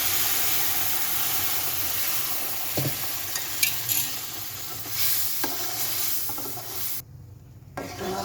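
Semolina halwa frying in a pan as thickened milk is added and stirred, a steady close sizzle and scraping texture running throughout with brief clinks, no talking.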